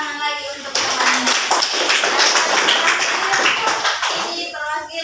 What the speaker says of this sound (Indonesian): Ya, tepuk tangan lagi untuk temannya.